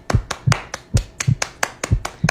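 A round of applause from a few hands, about a dozen sharp, evenly spaced claps in a quick steady rhythm, close and clear with nothing else behind them.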